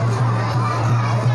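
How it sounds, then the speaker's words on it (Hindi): Evening crowd at a busy temple, a dense murmur of voices with children's calls mixed in, steady and close over a low continuous hum throughout the brief moment. "ये देखिए यहाँ पे भीड़ कितनी हो रखी है इस टाइम पे"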